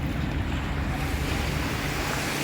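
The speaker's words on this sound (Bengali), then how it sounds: "সমুদ্রের গর্জন" Sea waves roar near Dublar Char in the Sundarbans in a dense, unbroken wash of surf with wind buffeting the microphone, loud and close, with no voices.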